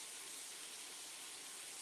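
Bacon cooking in a pan with too much water lets out a steady, soft hiss of steam. The sound is even and fairly quiet, with no talking.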